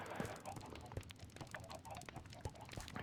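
Chickens in Minecraft cluck softly in short scattered bursts over a faint, busy background.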